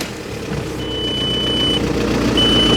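A 1.9 diesel engine in a Skoda Octavia A5 idles steadily after starting, a low continuous clatter with a thin high tone running through it.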